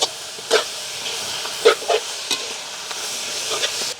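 Chilies, onions and chopped tomatoes fry in a pan, a continuous soft sizzle broken by several scraping stirs of a utensil, close by, with no talking.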